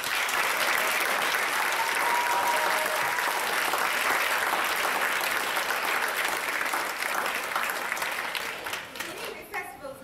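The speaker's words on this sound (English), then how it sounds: "So just one more time, a big round of applause." A large audience at a school music festival breaks into sustained applause, loud and dense throughout, with a few voices mixed in before the clapping thins out near the close.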